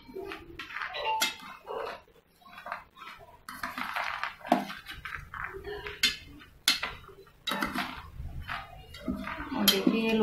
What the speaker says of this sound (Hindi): अब इन सब सारी चीज़ों को मैं करूँगी यहाँ पर मिक्स।